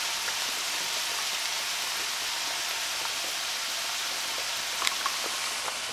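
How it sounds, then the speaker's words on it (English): Steady broadband bubbling and hissing of water at a rolling boil with potatoes in it, constant and close, with a couple of faint clinks near the end. "Potatoes are still boiling."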